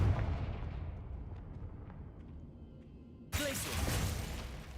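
A Confringo blasting curse in Hogwarts Legacy erupts as a heavy, booming explosion that decays into a long rumbling tail, then a second sharp, bright blast hits near the end, loud and close.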